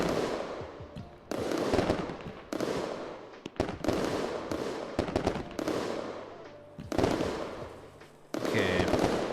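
Fireworks show in the video game Fireworks Mania: repeated loud explosive bursts and crackling volleys in clustered waves, with brief gaps between salvos and sizzling trails.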